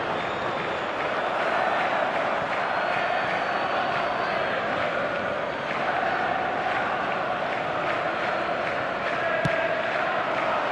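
Stadium crowd in an eFootball Mobile match roars and applauds steadily throughout, a dense continuous wash of cheering and clapping with a brief sharp accent near the end.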